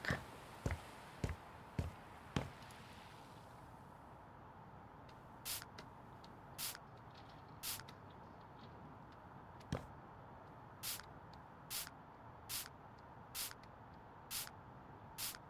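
Short hissing spray bursts from a cleaning bottle in the House Flipper 2 video game, first a quick run of five, then spaced single squirts over a faint quiet background.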